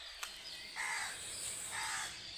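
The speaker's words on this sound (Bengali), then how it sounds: "পাখিদের কিচিবিচি শব্দ আসলে ভালো লাগে। সকাল সকাল পাখিদের শব্দ খুব অসাধারণ লাগে।" Morning birds call faintly outdoors, with two short caw-like cries about a second apart over quiet background hiss.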